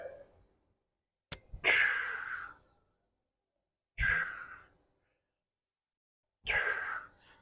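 Three deep, forceful breaths taken during a safety bar squat, each a rushing inhale or exhale lasting about a second, separated by silence, close and fairly quiet.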